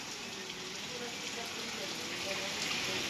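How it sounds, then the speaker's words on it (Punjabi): Heavy rain pours down at night in a constant, even hiss of water that never lets up, with no distinct drops standing out from the steady roar. "ਤੁਸੀਂ ਕਿੰਨਾ ਜ਼ਿਆਦਾ ਮੀਂਹ ਪੈ ਗਿਆ"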